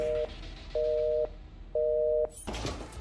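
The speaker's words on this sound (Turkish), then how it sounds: "ev telefonunuzun neden sürekli meşgul çaldığını açıklamak zorunda kalmışsınızdır" A telephone busy signal: three short, loud, steady two-tone beeps with even gaps between them, cut off by a burst of other noise.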